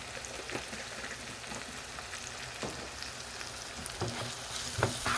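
Plantain slices fry in a pan of hot oil as part of a plantain-and-egg frittata, a soft steady sizzle with scattered crackles and occasional stirring clicks, fairly quiet and even.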